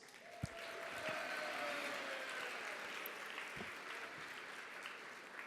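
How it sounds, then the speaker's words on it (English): At a 2019 ERN conference awards banquet, the crowd claps for the judges in a sustained, dense round of applause, swelling slightly early and then easing off gradually, with a couple of louder individual claps. "And another huge applause for all of our judges."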